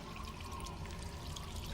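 Water pours in a steady, continuous broadband rush at moderate level, filling the short stretch without pause or talk.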